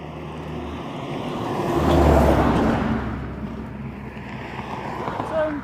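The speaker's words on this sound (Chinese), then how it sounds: "货车挺多" Trucks rumble past on a windy desert road at sunset, a low engine drone swelling to a peak in the middle and fading again beneath gusting wind noise.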